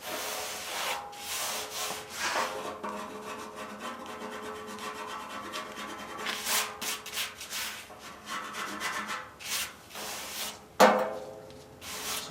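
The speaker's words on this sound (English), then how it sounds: "like rubbing it sideways, rubbing the blade along there" A blade is rubbed sideways along a part of a 1955 Farmall Cub tractor under restoration, making close, repeated rasping scrapes in uneven strokes with short pauses and one sharp knock near the end, no talking.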